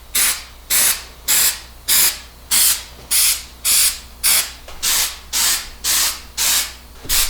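Bed liner coating sprayed onto the side panels of a four-season camper van, coming as about eleven regular hissing bursts, each roughly half a second long, loud and close, with short pauses between them and no talking.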